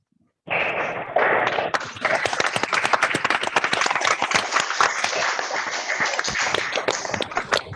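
Applause breaks out suddenly from an audience at a grand finale event after a near-silent start, then continues as loud, crisp, packed clapping with some distinct close hand claps until the end.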